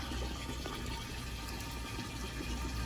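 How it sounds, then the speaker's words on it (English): Water gushes continuously from the overflow of a caravan's water tank, a loud, close, steady splashing rush that never lets up. "So we've got our overflow of water coming out"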